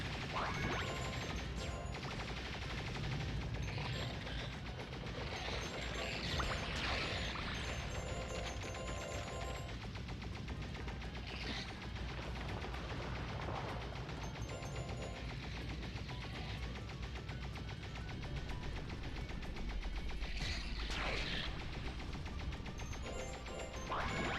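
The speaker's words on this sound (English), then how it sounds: "The turbo firing really can take these bugs out like nothing else." Rapid turbo fire from Spyro in Spyro: A Hero's Tail as he shoots down swarming bugs: a continuous mechanical rattle of shots mixed with bursts and crunchy impacts, loud and busy throughout with no talking.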